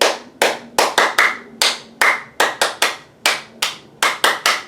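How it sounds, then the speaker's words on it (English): Hands clap in a steady rhythmic pattern, about two dozen sharp, loud claps in groups, keeping time to the children's song "Bingo" at a library storytime, with no voices. "now, no letters, all claps, 5 claps"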